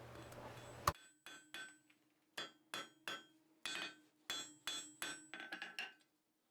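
Sharp metallic blacksmith's hammer blows on hot steel while forging a beam hook ring out one at a time, then in quicker bursts, clear and close against a quiet background.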